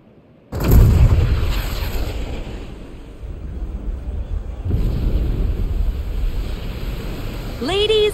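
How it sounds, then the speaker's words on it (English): A huge cannon blast from Junon in the video game Final Fantasy VII Rebirth booms out loud and near, followed by a long rumbling roar, then a second swell of rumble with a rising whine at the end. "with a single blast of Junon's famous cannon, Rufus Shinra has announced his arrival"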